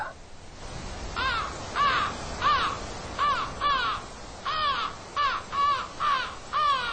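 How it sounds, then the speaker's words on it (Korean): Crows caw repeatedly in a steady series of harsh calls over a continuous hiss, used as a sound effect during a Korean audiobook reading, with no speech. "까마귀들은 이날 저녁에도 별다른 소리는 없이 그저 까악 까악 거리다가"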